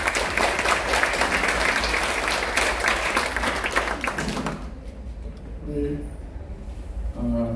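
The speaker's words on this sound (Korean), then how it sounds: "박수로 모시겠습니다" An audience in a parliamentary hall applauds warmly to welcome a former deputy prime minister, dense clapping for about four and a half seconds that cuts off abruptly, followed by someone speaking.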